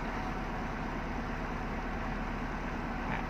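A Toyota Corolla Altis (2001–2008) idles at steady low revs after a brief rev, a quiet, even hum that continues unbroken through the short stretch with no talking.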